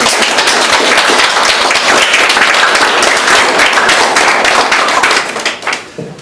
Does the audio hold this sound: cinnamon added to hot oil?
no